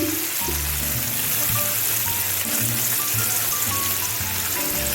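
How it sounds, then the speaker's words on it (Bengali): Spice paste with a splash of water added, frying for Begun shundari, a steady dense sizzle and bubbling hiss in the pan, close and continuous throughout. "মশলাটায় আমি একটু জল দিয়ে দিলাম"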